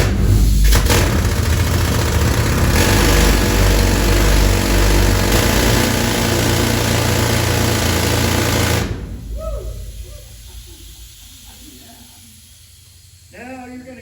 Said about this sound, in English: air pressure pushes that drill into the rock instead of that little crane